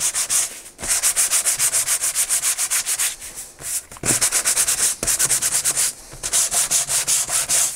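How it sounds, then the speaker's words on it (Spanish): Repeated rapid back-and-forth strokes of sandpaper rubbing a paper surface, loud and close, in several bursts separated by short pauses. "Lijamos también"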